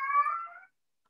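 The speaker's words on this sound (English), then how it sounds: "That's my cat for you all." A pet cat gives a single drawn-out meow, close and clear, fading after about half a second and followed by silence, heard during an online class session.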